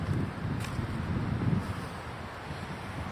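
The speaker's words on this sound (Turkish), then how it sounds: "Hava bayağı bir rüzgarlı." Low, rumbling wind buffets the microphone outdoors, a constant blustery roar with gusts rising and easing.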